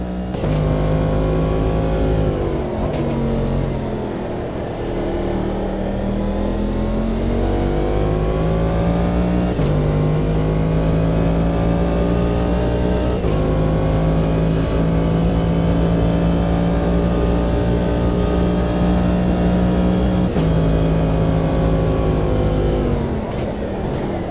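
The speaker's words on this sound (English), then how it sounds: "Very bassy engine revs, man." Deep, bassy race car engine revving in the sim racing game Automobilista 2, with sustained low harmonic drones rising and falling through the gears, loud and continuous without pause.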